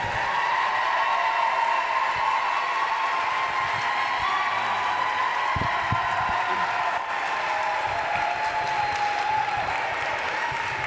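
Audience at a United Way campaign celebration applauding, a dense steady wash of clapping from a large crowd that holds evenly throughout, with faint voices mixed beneath and a sustained tone running underneath.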